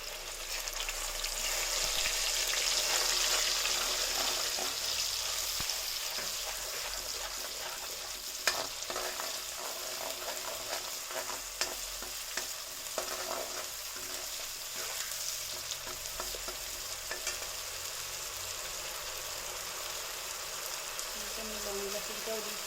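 Whole spices such as cloves, cardamom and bay leaves frying in oil in a pan for masala paneer, a continuous close sizzle with scattered stirring scrapes and faint talk in the background.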